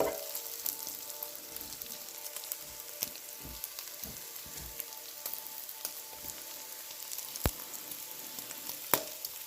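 Bacon sizzles and crackles steadily in a frying pan, a continuous dense hiss dotted with sharp pops and spatters throughout, with no talking.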